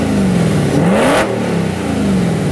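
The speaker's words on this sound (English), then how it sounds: "And then, of course, there's the all-important exhaust note." A Spyker C8 Spider sports car's exhaust revs up and falls back in a loud, close blip, with engine tone rising and settling across a couple of seconds.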